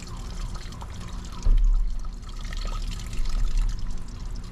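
Water sprinkled lightly over a pond, a continuous close splashing patter that swells slightly partway through and then stays steady, with no voices.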